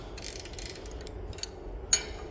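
Spanner tightening a bolt on a subsoiler, a fairly close run of rapid ratcheting clicks and metallic grinding, ending in a sharper clink.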